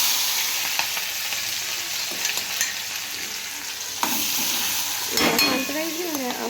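Cumin and ginger-chilli-garlic paste sizzle steadily in hot oil for palak paneer, a continuous close crackle with occasional stirring scrapes and a brief burst of louder spitting near the end.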